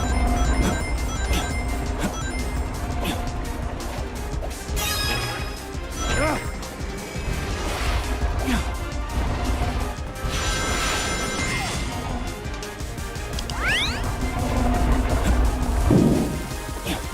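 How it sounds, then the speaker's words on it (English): Loud glass smashing effect in a timed platform game with crushing moving pillars, bursting out over busy game audio with music and rumbling layers; a person talks throughout. "Loud-ass glass smashing sound effect."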